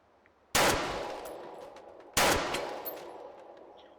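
An AR-style rifle chambered in .308 fires on full auto in the virtual reality game H3VR: two loud, sharp bursts about a second and a half apart, each followed by a ringing tail that fades.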